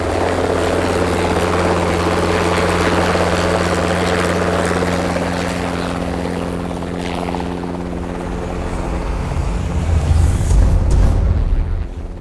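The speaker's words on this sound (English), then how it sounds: "Now a chopper has spotted me, and that's my ticket out of here." A helicopter flies overhead, its rotor chop and engine drone loud and steady throughout, swelling in low rumble toward the end as it draws nearer.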